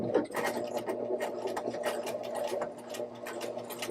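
A sewing machine stitching a fly front zipper on a curve runs steadily at close range, its needle chattering in a quick even rhythm, alone without talk.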